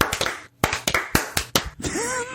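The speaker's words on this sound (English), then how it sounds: "let's clap for the people" A small group claps for the people, a few sharp uneven bursts of hand claps separated by short gaps, ending with a brief voice under a fading clap.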